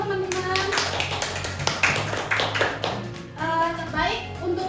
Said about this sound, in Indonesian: Boleh tepuk tangan dong teman-teman